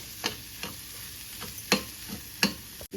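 Millet dosa batter with turmeric, salt and spices being stirred in a bowl, a few soft, intermittent scraping strokes spaced apart against a quiet background.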